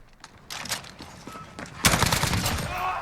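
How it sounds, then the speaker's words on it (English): Rapid bursts of automatic hip fire from an MK18 CQBR carbine in Call of Duty Modern Warfare, loud close-range gunfire in several short volleys building to a sustained burst near the end. "You can see there's some hip fire action."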